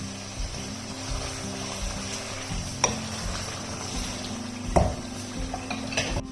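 Mutton and potatoes being stir-fried in a pot for aloo gosht, heard as quiet scraping and stirring with a low sizzle, plus a couple of sharper metallic clinks of the spoon against the pot.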